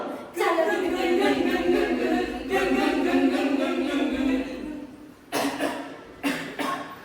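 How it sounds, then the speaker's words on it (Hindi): During an outdoor street play, someone coughs in long, raspy, strained fits, followed by two short sharp coughs close by. "माँ जी देखो ना, उसे कितनी खांसी आ रही है"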